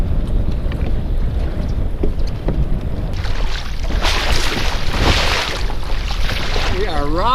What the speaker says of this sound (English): She's a little windier than I thought.